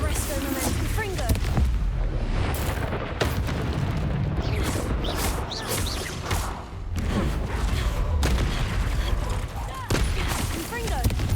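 Bombarda spell blasts and other combat magic in the Hogwarts Legacy video game, a rapid string of loud booms and explosive bursts, some with sharp cutoffs, while voices call out in the middle of the fighting.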